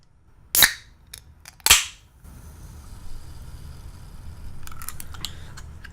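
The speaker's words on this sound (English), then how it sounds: "Crack open my Sprite." Can of Sprite being cracked open outdoors at a motocross track: two sharp close pops about a second apart, followed by a soft continuous fizzing hiss under faint background noise.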